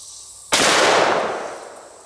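A single sharp gunshot from a Smith & Wesson 500 Magnum Performance Center revolver with a 10.5-inch barrel firing hard cast bullets outdoors, loud and sudden, then a long decaying echo rolling away for over a second.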